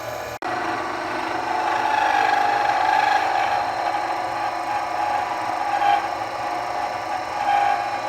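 A power drill grinds steadily into a broken screw to extract it, its motor whining at a fairly constant pitch for several seconds after a brief start, with slight surges in load.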